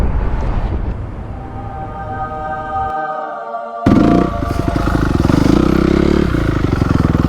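Honda CRF dirt bike engine revving while riding off-road, a steady loud motor that surges suddenly louder partway through and keeps running hard with rattling clatter.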